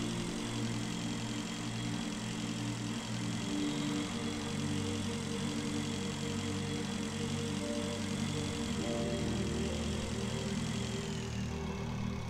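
A motorbike engine in the video game Breathedge holds a steady, droning hum. Its low tones stay constant throughout, with a slight shift in pitch toward the end, and there is no talk.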